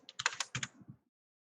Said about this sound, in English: I type too fast.